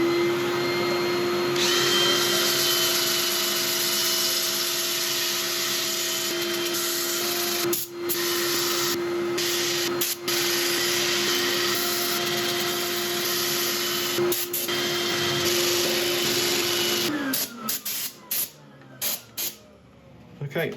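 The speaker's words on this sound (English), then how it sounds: "I'm going to set up for sanding." An elm bowl is sanded on a wood lathe, a loud steady whirring hum with a constant tone. Scraping and contact noise comes and goes, and the spinning winds down near the end.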